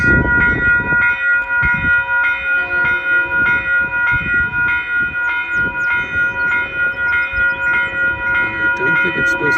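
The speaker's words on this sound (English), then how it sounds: "Even though we're waiting for a train coming from the south, there could be one coming from the north," A Metro-North train on the Hudson Line rolls loudly past Manitou station in New York, with steady rhythmic wheel thumps under a sustained ringing, bell-like crossing tone.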